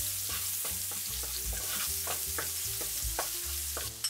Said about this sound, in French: Je chauffe à feu fort, j'y mets le gingembre râpé.